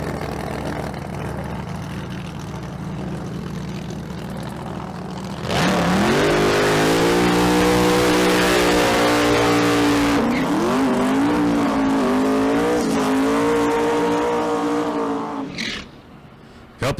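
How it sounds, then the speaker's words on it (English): Street race cars revving hard at a drag strip starting line, loud and close, a sustained roaring engine with rising and falling pitch for several seconds before cutting off, over steady background crowd and track noise. "Couple of serious cars down there on the starting line right now."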